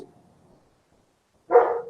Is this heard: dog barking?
yes